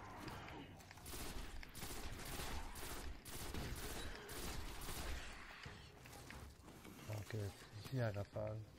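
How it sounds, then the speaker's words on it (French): Sustained bursts of rapid gunfire and roaring creature noises in the Destiny video game, dense and continuous for several seconds, then tapering into scattered shots with game voices under it. "Il y a la rafale."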